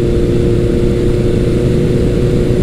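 A big-bore motorcycle, a Suzuki GS1100L or Yamaha XJ1100 Maxim, cruising smoothly at 60, with a steady, even engine drone and road rumble, loud and close, with no change in pitch.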